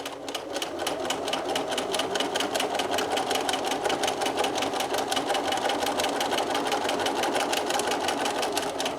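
Sewing machine stitching a camera strap in one continuous run, a fast steady rhythmic chatter of the needle held at even loudness, close and alone.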